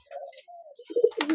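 Caged pigeons, imported Teddy pigeons, give short cooing and fluttering calls close by in a quick burst with no talk.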